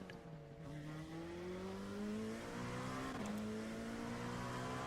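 A car in a racing simulator game accelerates, its engine tone climbing steadily through the revs with a brief dip at a gear change, loud and continuous with no talk.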